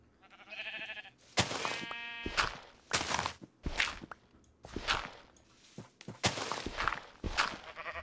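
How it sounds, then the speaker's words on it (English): Sheep in Minecraft being sheared give several short, separate bleats in an irregular rhythm, close and clear, with snipping and clicking sounds and a higher buzzing tone at the start. "Sheep shearing."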